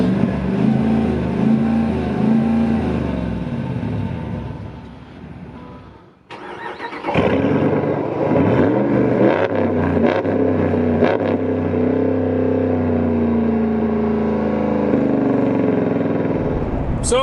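Two pickup trucks, a Ram Rebel GT with the GT package's custom exhaust and a GMC Sierra AT4X, rumble steadily up close; after a brief drop-off, the engine roars back in with revving and a deep, continuous exhaust drone.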